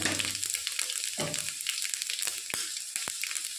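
Whole panch phoron spices frying in oil, a crackling sizzle dotted with sharp pops and spatter clicks, close and moderately loud with brief stirring noises.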